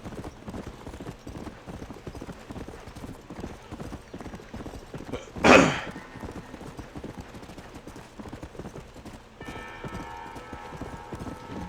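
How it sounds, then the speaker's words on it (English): Rapid rhythmic horse hoofbeats from the video game Red Dead Redemption clatter throughout, steady and close, with a brief loud burst near the middle. "Get over here, horse."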